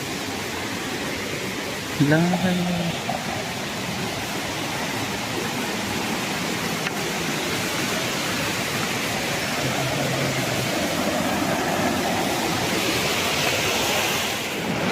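A mountain stream on the Agasthyamalai trek rushes in a steady, dense roar for the full stretch, loud and near. A voice is heard briefly near the start.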